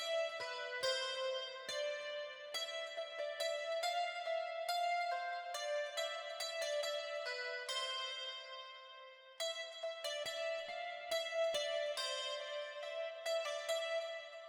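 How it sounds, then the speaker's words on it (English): A guitar in a beat mix, its low frequencies cut away by EQ, plays a string of bright, plucked, bell-like notes in an uneven melodic rhythm, thin in body and with no voices. "Now you can hear it tightens up the guitar a little bit."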